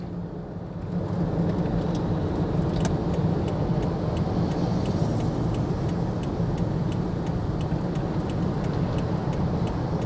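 Road traffic on Jalan Gerbang Pemuda Senayan in Jakarta, light and flowing: a steady, loud broadband roar of passing vehicles and tyre noise, heard from inside a moving car, with faint rattles and no talking.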